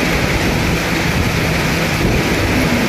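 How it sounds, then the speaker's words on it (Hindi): Heavy rain pours down outdoors in a dense, loud, unbroken hiss that stays steady throughout, with no voices. "बहुत बरसात हो रही है, जमजमा के बरसात हो रही है"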